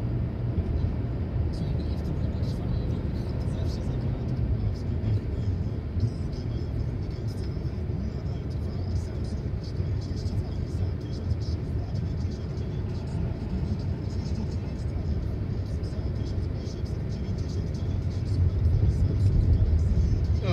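Car driving steadily on a town street during a driving test, a continuous low engine rumble and road noise from inside the cabin, swelling slightly toward the end.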